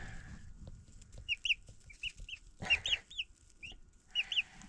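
Egg-laying hens on a Montana homestead cluck in short bursts and clustered calls through the clip, fairly close, with light rustling and background noise between the calls.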